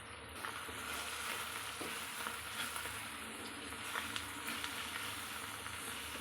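Chicken being mixed with masala in a pan, a steady close sizzle with soft scraping and stirring strokes running throughout, no voices.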